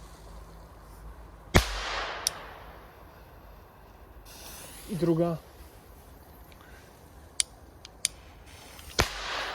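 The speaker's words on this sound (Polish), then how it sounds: "Zwykłe petardki, trochę głośniejsze od nawet, pikolaków" Two sharp, loud bangs from DUM BUM MICRO P2D Klasek firecrackers a few seconds apart, with smaller pops and a brief voice between them, over outdoor background noise.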